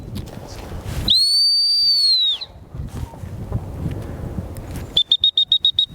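A dog training whistle blown for a gun dog, first as one long sustained shrill blast, then as a quick series of about seven sharp short pips, loud and close, outdoors.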